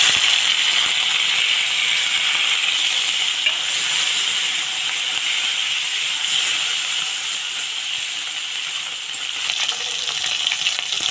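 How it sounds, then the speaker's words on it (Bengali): Lote shutki, dried Bombay duck fish, frying in white oil in a kadai, giving a loud, continuous, close sizzle and hiss that holds steady throughout with faint stirring underneath. "এখন আমি লোটে শুটকিটা ভেজে নিব"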